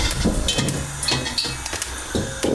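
Wok being scraped and cleaned out between cooking stages, a series of irregular metallic knocks, scrapes and clinks, close and moderately loud with no speech.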